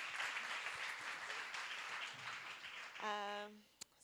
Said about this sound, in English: another round of applause for Annie for doing such a great job hosting